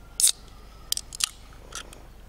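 Opening a package of paper cherries, a few sharp crisp rustles and snips of paper and packaging heard close up in a quiet room, spaced out over a couple of seconds.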